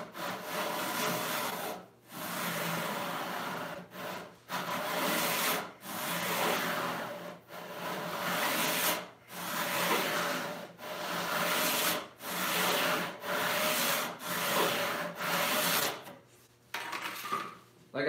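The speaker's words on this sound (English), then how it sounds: "So I'm just gonna come back. I'm gonna deepen that kerf." A hand saw cuts deeper into the kerf while resawing an 8-inch-wide walnut board, with long rhythmic rasping strokes separated by brief pauses, close and steady throughout.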